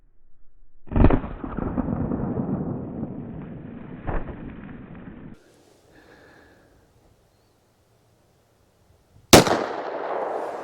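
IWI Jericho 941 pistol firing Winchester T-Series rounds at a range, two loud sharp shots with a rumbling outdoor tail after each, a quiet gap, then a third close report.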